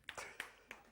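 A few scattered claps from a small audience after a card trick at a live culture show, three or four sharp hand slaps spread over a brief moment rather than sustained applause.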